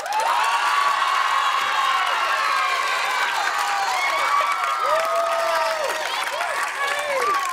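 Comedy club audience cheering, whooping and applauding loudly and continuously, with scattered shouts rising above the crowd noise.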